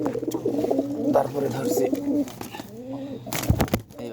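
Pigeons coo in steady, close rounds while someone talks over them in Bengali as he handles a female pigeon, with a few sharp handling knocks near the end.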